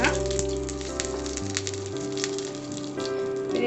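Mustard seeds, a dried red chilli and curry leaves crackle and sizzle in hot oil, a steady close frying hiss with scattered pops, while a low hum runs underneath and no voice is heard.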